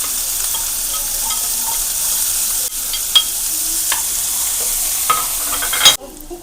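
Ginger and green chillies sauté in oil in a pan for beef stew with a loud, continuous close sizzle. A few utensil scrapes and taps cut through, and the sizzle drops off sharply just before the end.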